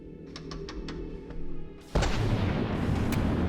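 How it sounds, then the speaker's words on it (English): Cannon fire at an enemy vessel in From the Depths, a few light clicks then a sudden loud blast that settles into a roaring rumble. "shoot him in the hole and that'll take out that gun for sure"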